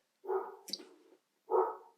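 Two deep, gruff dog barks separated by a short pause, the first trailing off with a rough edge, heard fairly faint and at a distance.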